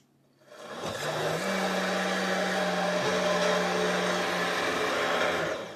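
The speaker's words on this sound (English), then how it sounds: "we're gonna put in the blender and we're gonna blend turbo speed" A kitchen blender runs at turbo speed, blending vegetables for a vegetarian dish. It starts abruptly, then holds a loud, steady high whir for about five seconds with a slight pitch step, and no one talks.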